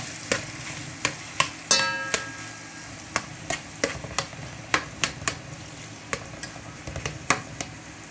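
Tomatoes sautéing in a pan for sarsiadong itlog, a continuous oil sizzle punctuated by sharp, irregular clacks of a spatula striking the pan as it stirs, close and fairly loud.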